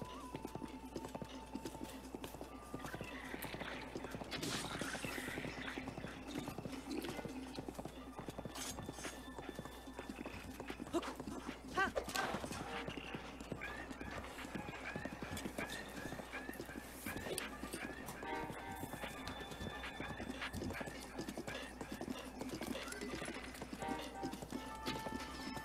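Steady clip-clop of a horse's hooves at a trot in the video game The Legend of Zelda: Breath of the Wild, with an occasional whinny, under faint background music and a voice speaking now and then.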